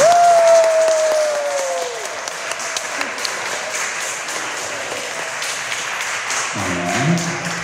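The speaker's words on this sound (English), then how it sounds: "how about one more round of applause for these great kids?" Audience applause at a senior recital fills the room, a dense steady patter of many hands that holds throughout with a voice briefly heard at the start.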